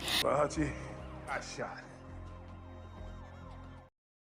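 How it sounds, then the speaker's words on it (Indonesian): A police siren wails, rising and falling steadily in the background while a voice speaks over the start, then the sound cuts off abruptly. "Hutch yang mendengar suara sirine menyuruh ayahnya dan Harry untuk segera pergi"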